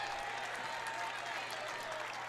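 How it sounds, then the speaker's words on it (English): Steady crowd applause filling an arena at an NCAA men's basketball game between Charleston and Chattanooga, a dense, even clapping wash that rewards a hustle play, with a commentator's voice faintly underneath. "Crowd appreciates that hustle."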